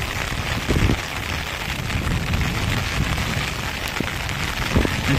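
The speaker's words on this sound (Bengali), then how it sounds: "ঝিরি ঝিরি বৃষ্টি পড়ছে" Light drizzle falls at the Pichaboni river estuary over a sandbank, a soft continuous hiss of fine rain mixed with outdoor wind, with a few brief louder thumps and no voices.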